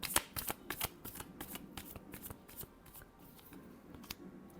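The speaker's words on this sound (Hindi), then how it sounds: "Last shuffle." Tarot cards being shuffled in a quick run of crisp riffling snaps and soft slaps, close and fairly quiet, with no voices.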